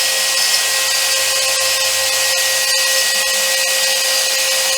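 Sainsmart CNC 4040 Pro router with a Rotozip spindle cutting at 20,000 RPM gives a loud, steady high-pitched whine with a constant tone and no change in speed, running alone throughout.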